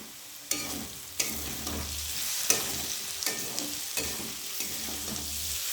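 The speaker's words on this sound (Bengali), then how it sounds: "তো এটা যতক্ষণে ভাজা হচ্ছে" Food frying in a pan for egg chowmein: a steady broadband sizzle, with a few sharp clinks of stirring at regular intervals, fairly quiet, with no talk.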